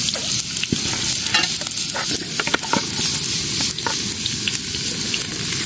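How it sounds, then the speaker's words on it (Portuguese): Onion and garlic sizzle in a hot pan beside bell pepper and tomato while fish is prepared, a loud steady crackle near the listener, broken by sharp pops and stirring scrapes, with no talk. "E a cebola e o alho fritando."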